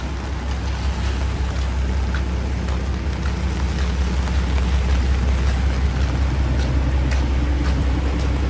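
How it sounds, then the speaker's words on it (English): Heavy, steady rain pours over the streets of Midtown Manhattan during a thunderstorm, a continuous dense hiss with the low rumble of traffic beneath it and scattered sharper drops, with no voices heard. "it's a bit settled, but still a lot of rain"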